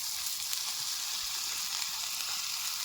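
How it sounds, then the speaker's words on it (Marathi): Onion frying in oil in a home kitchen pan, a steady dense sizzle holding at even loudness throughout, close and alone with no talk. "आता आपण तेल टाकून घेणार आहे कांद्याला"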